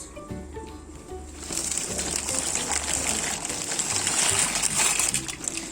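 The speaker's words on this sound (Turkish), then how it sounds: "şimdi içerisine kalem makarnamızı ilave ediyoruz" Dry penne pasta is poured into a pot of boiling water, a dense rattling rush of pasta hitting the water over a steady bubbling boil, with faint background music at first.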